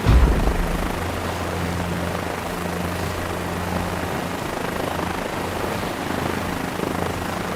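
A helicopter engine in Microsoft Flight Simulator 2024 runs with a steady, loud rotor drone and low thrumming tones, preceded by a brief heavy thump at the start, with no talking.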